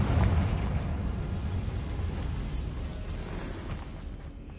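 Confringo fire spell blast in Hogwarts Legacy on PS5: a loud, low rumbling boom that hits at once and fades slowly over several seconds, with no voices.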